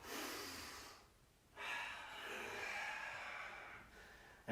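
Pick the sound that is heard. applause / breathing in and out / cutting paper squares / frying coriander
breathing in and out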